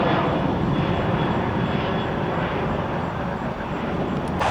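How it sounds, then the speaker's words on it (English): A UPS Boeing 757 cargo jet on flight 1445 bound for Philadelphia gives a steady, broad engine roar that holds loud and even throughout, with no voices. "1445, a 757 heading to Philly."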